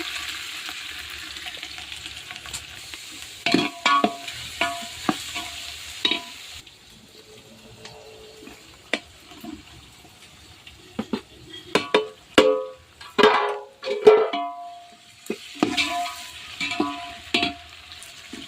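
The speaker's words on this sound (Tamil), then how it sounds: "கொஞ்சமாக வெங்காயம் போட்டுக்கோங்க." Onions fry in a pan for a Tamil liver gravy, a steady soft sizzle broken by repeated sharp scraping and clattering stirs that come in bursts, loud and close.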